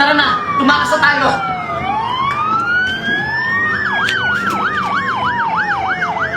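A police car siren in a Filipino drama scene, loud and close, sweeping through long slow wails before switching to a rapid yelping warble.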